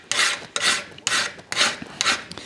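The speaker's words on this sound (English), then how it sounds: "you'll do it quite quickly with a hand file too" Hand file rasping a back bevel into a steel bench stop held in a vise, five long rhythmic strokes in quick succession, each a bright harsh scrape, close and alone.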